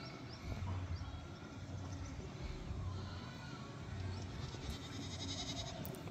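Goats bleating in a valley near natural ponds in the countryside outside Alipurduar, with a few calls coming through a steady outdoor background that holds throughout.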